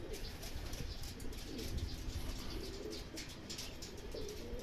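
Racing pigeons coo softly as they arrive at the loft after a city training flight in Tarlac. Low, steady cooing and occasional chirps sit under constant, fairly loud background noise.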